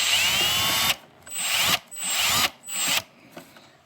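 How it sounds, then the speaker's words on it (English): Power drill driving screws while reassembling a Sharp PS-916, several short whirring bursts close by with brief pauses between them, no talking. "If you use a drill, make sure you use like the lowest torque setting."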